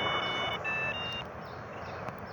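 A short electronic text-message notification beep from the video game GTA 3 sounds as a few steady tones over a constant rumble of in-game background noise.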